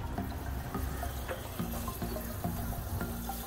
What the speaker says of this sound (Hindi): सो लेमन ट्री को पानी मिल रहा है अभी।